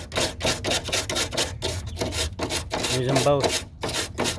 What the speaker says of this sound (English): They also give you a wire brush, but sandpaper probably works a little better.